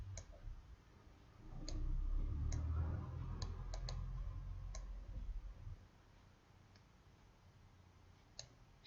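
Sparse, sharp clicks of a computer mouse used to write script characters, single and occasionally in quick pairs, close by, over a low background rumble.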